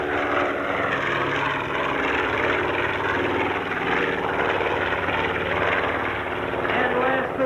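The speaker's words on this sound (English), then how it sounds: "But certainly not least on takeoff roll right now, the PV-2 Harpoon" A PV-2 Harpoon twin-engine propeller airplane on its takeoff roll at an air show, a loud, steady engine roar that stays strong and continuous throughout, with an announcer's voice faint beneath it.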